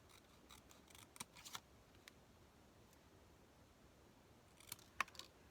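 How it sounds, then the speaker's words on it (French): Scissors snipping through a paper card for a handmade Christmas card, a few faint sharp clicks and short cuts, scattered quietly and close by. "Mon ciseau. On va essayer de couper droit."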